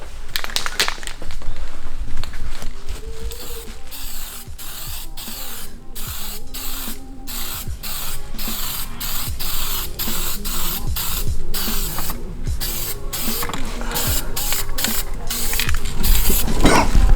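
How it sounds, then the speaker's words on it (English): Aerosol spray paint hissing onto a Mazda Miata center console during a restoration, in repeated bursts of varying length with short pauses between them, close and fairly loud, with a few light clicks and handling noises. "So now I'm just gonna go ahead and spray the middle"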